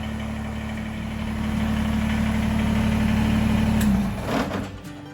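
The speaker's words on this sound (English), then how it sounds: "with the engine running" A homestead tractor engine idles steadily and close by, a low rumbling drone that holds for several seconds, then dips and shifts near the end as if being shut down.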